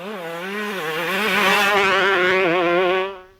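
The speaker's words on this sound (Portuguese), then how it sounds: "saudade do zumbido característico das 2 tempos" A two-stroke motorcycle engine buzzing, a close, loud, nasal drone whose pitch climbs and wavers as it revs, then cuts off abruptly near the end, heard alone with no voices.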